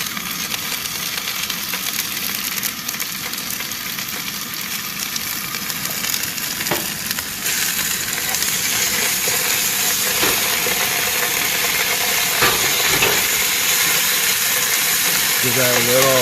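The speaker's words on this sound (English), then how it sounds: "Give that a little saute" Laksa paste sauteing in a pan with garlic, ginger, onions and lemongrass in an outdoor backwoods cooking setup, giving a steady loud sizzle and hiss throughout, growing slightly louder midway, with occasional stirring clinks.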